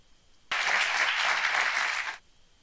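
An interview audience breaks into applause, a dense burst of clapping that starts abruptly, holds steady for under two seconds and then cuts off.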